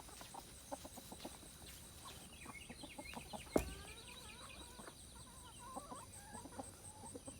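Backyard chickens cluck softly nearby in a series of short, scattered calls, with one brief louder squawk partway through over quiet outdoor background.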